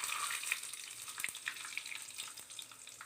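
Mustard seeds and fenugreek sizzle in hot oil for a rasam tempering, a close, steady frying hiss with scattered sharp pops and crackles throughout.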